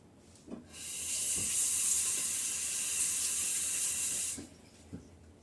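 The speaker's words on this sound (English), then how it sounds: "Let me wash my hands." A kitchen tap runs for a few seconds while hands are washed, a steady close hiss of water starting and stopping abruptly, with faint knocks before and after.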